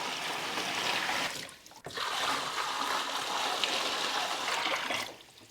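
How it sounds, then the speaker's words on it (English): Water pours steadily into a tub, a continuous splashing stream with a brief break before it resumes and then stops. "Add some water."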